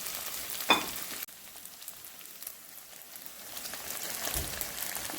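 Mushrooms, bay leaf and thyme sizzle in a pan with sausage, a steady broadband frying hiss with a sharp clatter near the start, continuing alone at moderate level.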